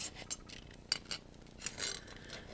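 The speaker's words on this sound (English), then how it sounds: "I'm just going to go in with my scissors because I don't want to chop up my bow." Scissors snip at a Santa craft design in a few soft, crisp cuts, faint and close, separated by short pauses with light rustling between them.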